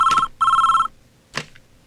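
A telephone rings in an office, two loud electronic bursts of ringing followed by a short, softer third burst, close by with no talking.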